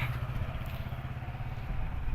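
Mahindra 475 tractor engine running at a tractor market, a steady low diesel chugging throb heard nearby without interruption.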